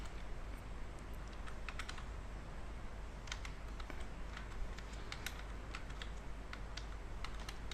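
Steady typing on a computer keyboard while entering PHP code for inserting HTML form data into a database, with scattered key clicks over a constant low hum and no talking.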